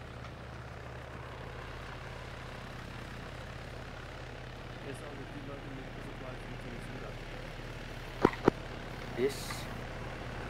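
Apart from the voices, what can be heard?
helicopter in a video game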